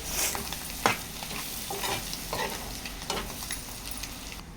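A spoon scrapes and stirs through ivy gourd and egg curry with chilli powder in a pan, repeated stirring strokes over a continuous close sizzle, with no voices.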